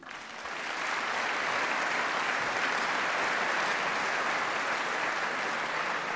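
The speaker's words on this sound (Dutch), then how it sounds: "Mag ik een applaus voor de man die dat zo meteen gaat doen." A large audience at the Frisian sports gala applauds for the man about to present an award, building over the first second into steady, sustained clapping that fills the hall at a moderate distance.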